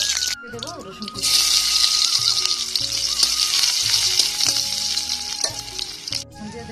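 Chopped garlic and dried red chillies hit hot mustard oil in a wok and break into a loud, continuous hiss and crackle. A few clinks from stirring sound close by, with faint background noise under the sizzle.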